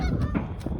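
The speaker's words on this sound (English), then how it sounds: "They're honking about Trent over there" Goose honking outdoors by an abandoned bridge in a war-torn village on a windy day, several loud, close calls in a quick burst over windy background noise.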